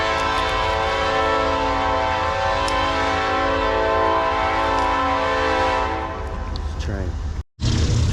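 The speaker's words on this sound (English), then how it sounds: "Train." Near a city creek, a passing train blasts its horn in a long, loud, sustained chord over a deep rumbling roar. The horn fades toward the end and breaks off abruptly.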